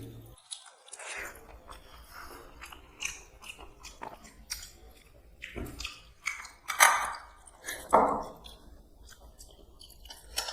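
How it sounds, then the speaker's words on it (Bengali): Close, wet chewing of rice mashed together with dal and fish curry, with soft squishy bites and a few louder crunchy moments in uneven rhythm, alone without talk. "আমি কিন্তু এই ডালের মধ্যে কিন্তু মাছের ঝোল সব কিছু দিয়ে কিন্তু মেখে খাই"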